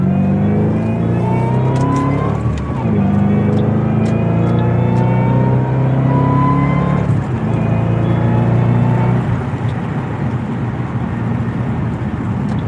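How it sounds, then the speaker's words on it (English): A supercharged car engine fitted with a tuning kit winds up steadily under acceleration, its rising whine loud and continuous for over twelve seconds, with a brief shift in pitch partway through. "You guys hear that supercharger?"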